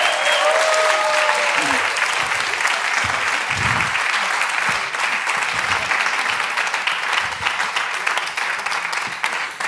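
A concert audience at a Schlager music show bursts into loud, sustained applause, dense clapping close and full throughout, with a voice briefly heard at the start.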